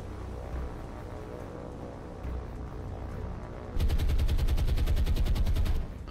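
Anti-aircraft guns in a naval combat game, .50 caliber and 20 mm, crackle in the distance before a loud, close burst of rapid automatic fire erupts for about two seconds and then cuts off.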